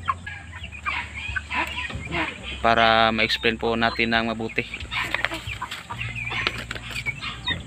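Young chickens in a backyard poultry pen cluck and squawk in a busy chorus close by, with a louder burst near the middle, while someone talks over them.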